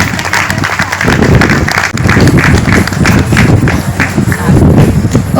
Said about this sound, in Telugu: సో మరి ఒకసారి గట్టిగా మళ్ళీ చెప్పట్లు